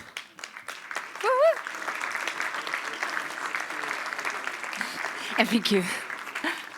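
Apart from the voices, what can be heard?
audience applause for a speaker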